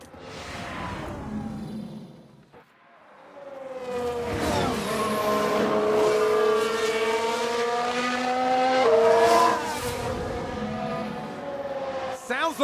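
Simulated F1 race car in F1 Manager 22 locking its brakes and running straight on, a loud sustained engine whine with rising and falling pitch, a brief dip early on, then a strong continuous howl close by with a sharp burst at the end.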